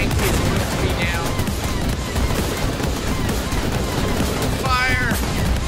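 Gunfire in a battle between toy army men: dense, continuous machine-gun volleys and rapid shots, loud and close, with voices and chatter mixed underneath.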